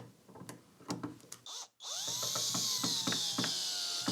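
Power drill driving a screw into a wooden clamp jaw for a DIY workbench clamp, with a few handling knocks first, then a loud continuous whine of the drill up close.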